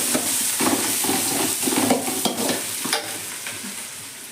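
Onions sauté in a pan for a spicy tamarind fish curry, giving a loud, close sizzle broken by repeated scraping stirs and clinks of a spoon against the pan, with no talking.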